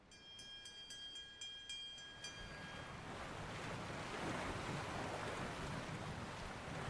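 In the Final Fantasy XIV video game, a ship sets sail on ocean waves: a few soft chiming tones ring out, then a broad steady wash of sea and rushing water swells and holds, filling the scene.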